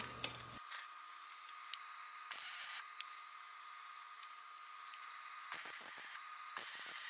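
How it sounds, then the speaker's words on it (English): Short bursts of harsh crackling hiss from welding the gaps and hinges on a Tsunami 3x79 belt grinder frame, three separate runs of a second or less with quiet pauses between. "I'd like to actually fill in this little crevasse here and a couple other welds on the top of these hinges and the bottom of the hinges"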